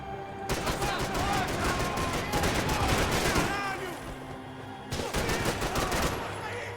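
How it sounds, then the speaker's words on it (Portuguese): A golden gun fires rapid bursts of gunfire in the shooter video game Max Payne 3, loud and dense with short pauses between volleys, under someone talking. "A minha arma de ouro."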